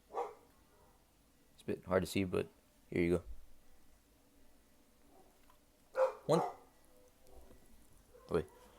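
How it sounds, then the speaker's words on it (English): A dog barks in short bursts, several sharp barks in two clusters with a single bark near the end, spaced apart between quiet gaps while someone talks nearby. "you can hear the dog barking"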